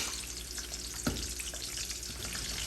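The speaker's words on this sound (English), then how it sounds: "Just to kind of loosen up the onion and cook it just a little bit" Onion cooks in hot oil with a steady, soft sizzle close by, while a spoon stirs and breaks it up; one brief scrape or knock stands out midway.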